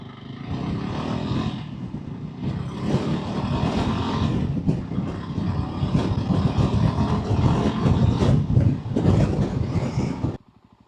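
A Voge 300 Rally motorcycle fitted with a rear sprocket two teeth smaller pulls away in first gear, its engine droning steadily louder and rising with wind rush before cutting off abruptly.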